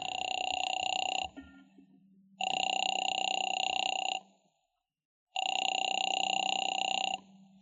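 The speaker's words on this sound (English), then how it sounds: "Phone seemed to ring forever" An old-style telephone rings in a radio drama, three long electronic trills separated by silent gaps, clear and close with a faint background murmur between rings.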